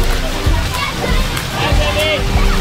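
Water splashes and sloshes at a big splash play area on the Wonder of the Seas cruise ship, a lively steady wash with children's voices and chatter over it.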